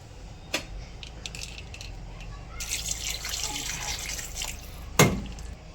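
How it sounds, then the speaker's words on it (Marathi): Water poured into a potato and pea curry cooking on the gas for gravy, a close splashing rush lasting about two seconds, framed by a few light knocks and a sharper clink. "ग्रेव्हीसाठी आपण थोडं पाणी घालतो आहे"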